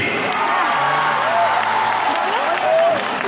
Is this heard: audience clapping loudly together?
yes